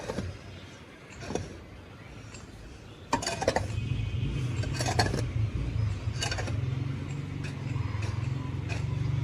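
Soil being mixed by hand for a rooftop vegetable garden, with scraping, clinking and shuffling noises that grow louder and steadier partway through, plus scattered sharp knocks.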